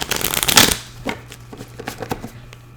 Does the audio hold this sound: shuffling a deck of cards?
yes